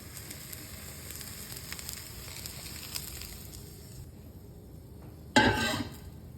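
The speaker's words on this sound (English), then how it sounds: "Sauté the remaining half and transfer to the bowl." Okra sautéing in a pan: a steady soft sizzle and hiss, then a brief louder burst of frying crackle near the end, with no voices.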